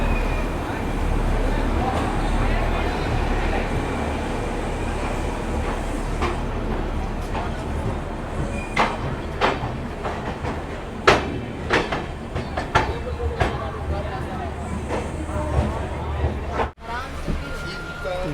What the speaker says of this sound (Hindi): अपनी ट्रेन का डिपार्चर हो चुका है पटना जंक्शन के प्लेटफॉर्म नंबर 4 से